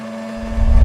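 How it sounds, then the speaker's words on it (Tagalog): A steady motorized whir starts quietly, then a low rumbling churn rises and grows louder toward the end as a blender with garlic runs nearby while making pasta. "Ayan, punta tayo sa blender"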